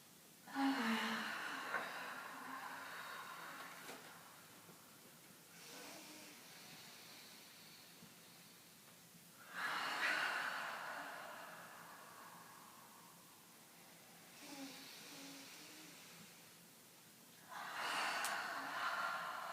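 Deep yoga sun breaths in a trauma-sensitive class: slow, repeated cycles of long inhales and audible exhales, each lasting several seconds, close and fairly soft, with no talking.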